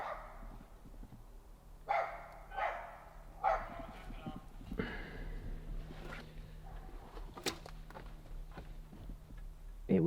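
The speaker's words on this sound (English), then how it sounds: "The amazing neighbors barking dogs." Neighbors' dogs bark in the distance, several spaced barks and yips against a quiet outdoor backdrop, with someone speaking briefly.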